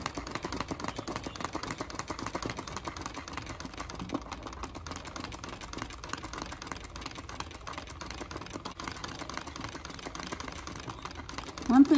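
A treadle sewing machine stitching a doily on paper, giving a fast, steady, rattling stream of needle clatter that runs continuously at moderate loudness, with a brief sharper sound at the very end.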